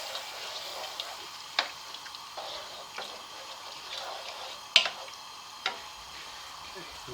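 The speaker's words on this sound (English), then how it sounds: "Give that a good stir." A pot of jambalaya being stirred, quiet scraping strokes at irregular intervals with a few sharper knocks of the spoon against the pot over a soft background hiss.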